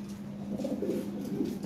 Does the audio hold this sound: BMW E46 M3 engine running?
no